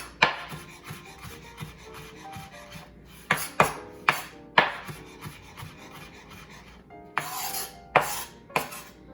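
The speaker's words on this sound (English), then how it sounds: "Italian parsley here. And all we're going to do is mince it this way" A knife mincing Italian parsley on a wooden cutting board, sharp irregular chopping knocks mixed with softer rocking and scraping strokes, close and clear with no talking.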